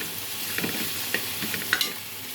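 Tempering spices and lentils crackle and sizzle in hot oil, with a few sharp pops and stirring scrapes over a steady frying hiss.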